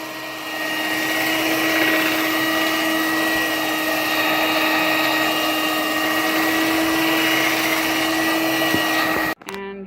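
An electric mixer whirs steadily at high speed, beating egg whites for chiles rellenos, a loud continuous motor drone with a stable pitch that cuts off abruptly at the end.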